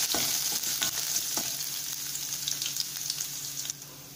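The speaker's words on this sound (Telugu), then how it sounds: "కడాయి పెట్టి 2 టేబుల్ స్పూన్స్ ఆయిల్ వేసుకుందాం. ఇప్పుడు ఫస్ట్ ఇందులో వెల్లుల్లిని కచ్చా పచ్చాగా దంచుకొని" Crushed garlic fries in two tablespoons of oil in a kadai, a steady bright sizzle with scraping stirs throughout, close and fairly loud.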